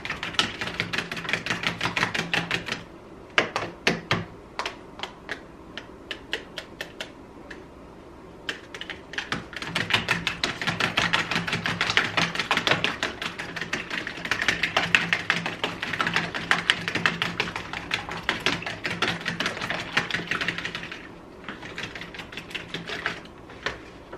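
Three small eggs whisked in a bowl for low-carb keto French toast, a rapid run of close, sharp tapping clicks that pauses briefly, then resumes steadily with no talking.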